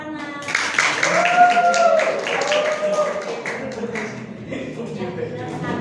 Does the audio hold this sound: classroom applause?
yes